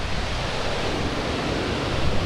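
An Italian alpine waterfall roars close up as a loud, steady broadband rush, with spray hitting the mic and some wind noise, and no voices.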